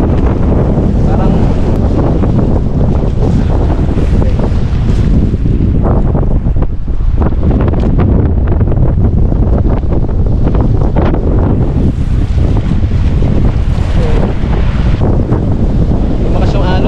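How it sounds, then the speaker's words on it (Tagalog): Strong wind buffeting a rock in the middle of the sea, roaring continuously into the microphone with surf and waves churning underneath, loud and unbroken throughout. "Lakas nga lang ng hangin"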